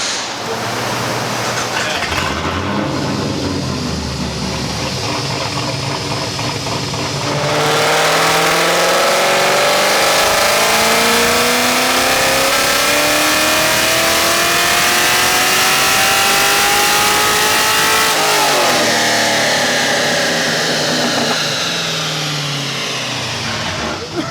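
A car with its mufflers removed revs hard on a dyno pull, loud and raw, the engine note climbing steadily through the gears for over ten seconds before dropping off, with voices around it.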